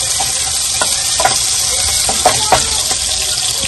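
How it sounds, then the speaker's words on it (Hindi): Chicken and carrots fry in a pan over a full flame, a loud continuous sizzle with occasional stirring clinks. "सभी गाजर हमारी हो चुकी है माशाल्लाह फुल फ्राई"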